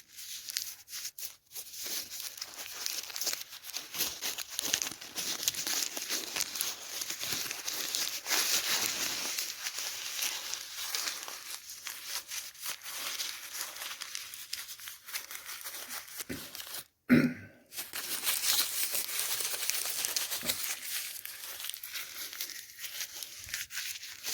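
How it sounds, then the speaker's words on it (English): A crumpled paper receipt is squeezed and rolled close to the microphone in a whispered ASMR setting, giving a steady, crisp crinkling and tearing texture that continues for the whole stretch with only a brief pause. "This is a crumpled up receipt."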